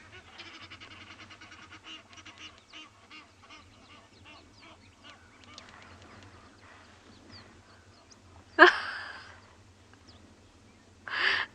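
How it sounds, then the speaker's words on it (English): Egyptian geese call on a quiet morning safari at Chitwa in South Africa: two loud, harsh honking bursts stand out near the end over faint, scattered background bird sounds. "can hear the Egyptian geese"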